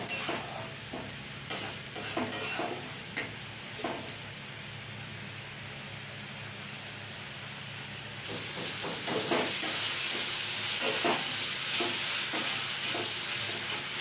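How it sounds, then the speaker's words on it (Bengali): Spice paste for a tilapia fish curry fried and stirred in a pan with a splash of water, a steady soft sizzle that grows louder and hissier halfway through, with repeated scraping strokes of a spoon. "মশলাটা ভালোভাবে কষিয়ে নিচ্ছি।"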